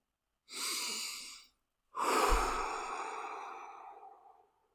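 A person takes one deep, audible inhale, pauses briefly, then lets out a long, slow exhale that gradually fades, breathing close to the microphone with no talking.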